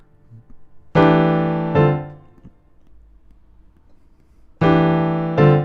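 Keyboard chords alternating back and forth, two pairs of loud sustained chords struck with a pause between them, each ringing and decaying, played in a jazz and modal keyboard lesson.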